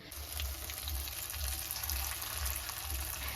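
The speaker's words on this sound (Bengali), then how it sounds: "তিন চার দিনে মাছের তেল একখানে জমা ছিল তো আজকে বের করে নিয়ে এটা বড়া করছি" Fritters of saved fish fat, onion, green chili, rice flour, turmeric and salt fry in hot oil, a steady close sizzle with soft low bubbling pulses underneath.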